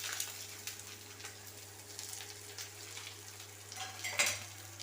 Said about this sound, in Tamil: இதையும் வதக்கி விட்டுக்கலாம்.